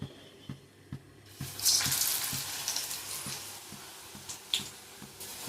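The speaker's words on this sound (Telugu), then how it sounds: "నూనె కాగింది కదా, వేసేసుకుందాం అందులో మనం." Chickpea-flour bajji batter hits hot oil and starts frying, a soft hiss swelling into bubbly sizzling with a faint steady ticking underneath, fairly quiet and close.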